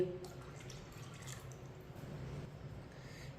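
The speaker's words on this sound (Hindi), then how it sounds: "उसी के लिए आधा गिलास पानी डाल लेंगे।" Half a glass of water poured into a pot for moong dal khichdi, a soft continuous trickle and splash heard close and alone.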